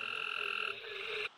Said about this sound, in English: Cope's gray tree frog is a high-pitched trill